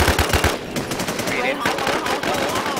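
Machine gun fire in the online game Infestation, rapid bursts of loud close automatic shots filling the whole moment, with a voice reacting faintly underneath.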